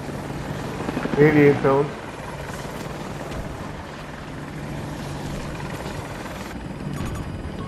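An AH-64 Apache attack helicopter flying in Battlefield 2042 Conquest gameplay, a steady droning rotor whir sustained throughout, with a player speaking briefly over it.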